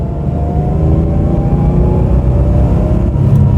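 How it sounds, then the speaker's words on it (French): Porsche 911 SC engine taking a light throttle blip, a loud, close, low mechanical growl that rises slightly in pitch and holds steady for a few seconds, with no talk over it. "si on fait juste une toute petite accélération ici,"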